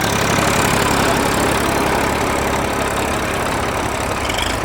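Massey Ferguson 241 tractor engine running steadily in second gear outdoors, a loud continuous diesel drone with a low knocking throb that stays constant throughout.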